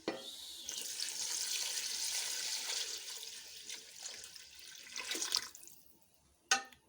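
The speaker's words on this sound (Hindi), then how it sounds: "अब हम इसमें 1 लीटर पानी ऐड करेंगे" A litre of water is poured into a cooking pot, giving a steady rushing splash that tapers off, followed by a brief clink at the end.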